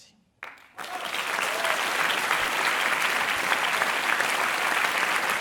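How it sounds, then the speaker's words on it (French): A large audience bursts into sustained applause after a brief quiet moment, steady dense clapping that continues without letting up. "Applaudissements pour Michel Poulain, s'il vous plaît, plus fort."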